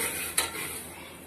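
A spoon stirs vermicelli frying in a pan over low flame, giving a continuous soft sizzle with a single sharp scrape or clink of metal against the pan near the start.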